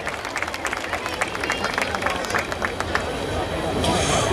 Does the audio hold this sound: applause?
yes